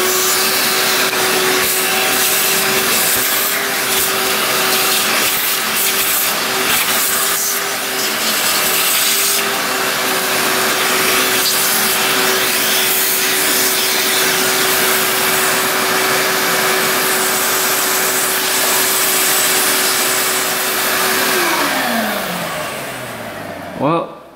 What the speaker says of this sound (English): Let's vacuum that over there.